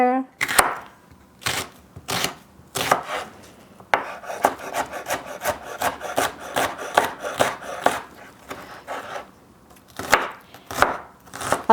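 Knife cutting vegetables for pico de gallo on a board, a quick run of sharp chops in bursts with short pauses, steady and close, with no talking.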